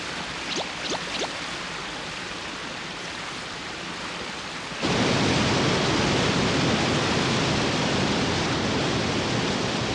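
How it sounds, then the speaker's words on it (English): A rushing waterfall, a steady broadband roar that grows abruptly louder and closer halfway through, with a few faint chirps early on. "This is exactly the waterfall I saw in my dream."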